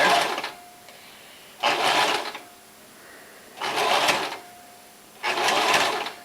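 A sewing machine closes the seams of a braided blanket in four short, even runs separated by brief quiet gaps, heard up close with no one speaking.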